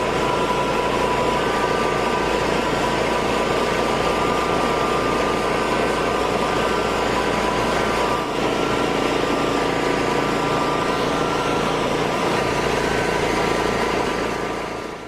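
A concrete floor grinder with a vacuum attached runs at full throttle, giving a loud, steady, continuous motor drone with a constant hum that holds without a break for the whole stretch.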